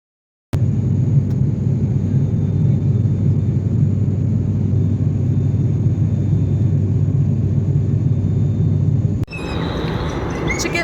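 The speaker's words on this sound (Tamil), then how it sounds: "டேக் ஆஃபும் ஆயிடுச்சு ஃப்ளைட்." Airplane cabin in flight just after takeoff on a Trichy to Jaipur trip, a loud steady low engine rumble that starts abruptly and holds, then drops away near the end into a clatter.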